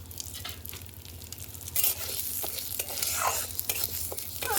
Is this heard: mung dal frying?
yes